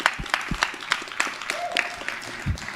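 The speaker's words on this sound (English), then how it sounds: "Let's give him a round of applause." Applause at a school Veteran's Day assembly for singer Jim Cornelison, with scattered, fairly sparse claps and a few voices calling out over the top, the clapping moderately loud and not very dense.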